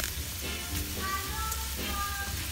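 Green bean casserole gravy simmers in a pan, a soft, steady sizzle and bubbling with faint crackles, fairly quiet and heard alone.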